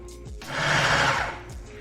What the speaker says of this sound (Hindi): इन सारी चीज़ों को मैं अच्छी तरह पीसती हूँ